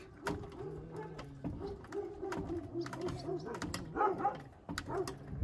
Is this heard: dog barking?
yes